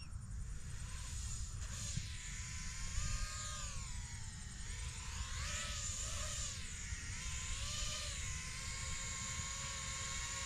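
A quadcopter drone flies under Betaflight 4.5 GPS Rescue with a steady, fairly faint buzzing whine of motors and propellers, its pitch rising and falling in smooth sweeps as it holds position and maneuvers, without speech.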